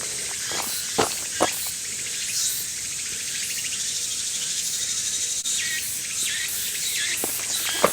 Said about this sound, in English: It's one of my favorite cicada sounds.